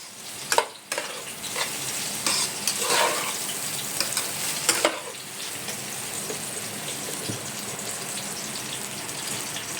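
Spiced food being stirred and mixed while it fries, with a constant sizzle, scattered scrapes and clanks of a spoon against the pan early on, then a steadier hiss.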